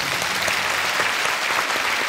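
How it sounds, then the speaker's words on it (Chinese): A studio audience on a Chinese televised job-hunting show gives loud, continuous applause to welcome a guest, a dense, even clatter of many hands filling the room. "热烈掌声欢迎"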